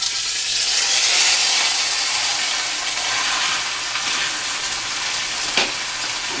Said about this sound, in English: so we can fry this roast in there to get it nice and brown from each side